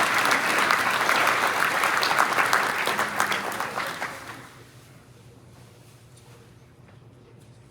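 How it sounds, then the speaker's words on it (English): An audience at a high school football awards ceremony applauds the player nominees, a loud sustained wash of clapping that fades away over about four seconds into quiet room tone. "A big round of applause for all the great player nominees."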